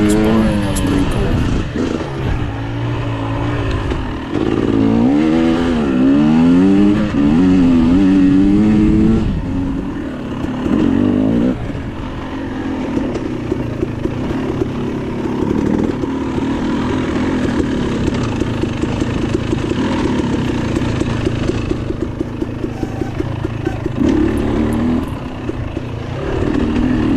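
A 2022 KTM 300 XC-W dirt bike races fast during a six-hour Ironman charity event, its engine rising and falling in sharp rev swings and then droning steadily, loud and close, with a voice over parts of it.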